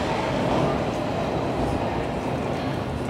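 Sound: subway train arriving at Bloor-Yonge station

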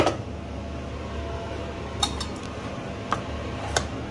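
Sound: fried onions being added to a pot of rice

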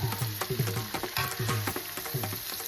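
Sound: kanthari chillies crackling as they fry in oil

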